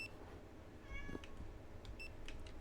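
A cat in a video game gives a short, fairly clear meow at mid-loudness, followed by faint game sounds over a low background rumble.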